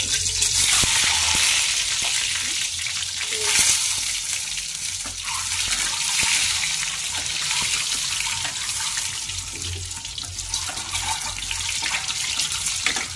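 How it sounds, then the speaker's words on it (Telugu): Eggs fry in a pan with a loud, continuous, close sizzle and crackle that holds steady throughout. "గుడ్లు కూడా వేయించుకుందామండి"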